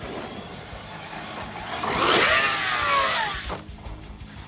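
Arrma Talion 6s RC car with a failing motor, its strained whine swelling and sliding in pitch mid-clip before fading, heard outdoors over steady background noise.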